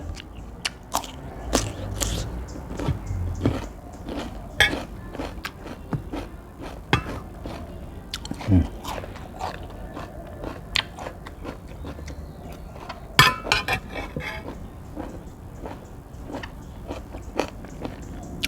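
Close, crisp crunching as a Thai pounded salad with pork sausage and crunchy vegetables is bitten and chewed, irregular bites with loud snaps, no talking.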